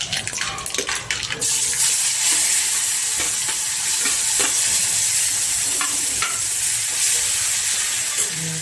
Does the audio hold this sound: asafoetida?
yes